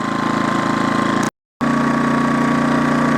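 Impax IM1900SIG petrol generator running under a 500 watt halogen lamp load, a steady close engine drone with a hum tone, briefly cut out for a moment and then resuming at a slightly revved-up pitch.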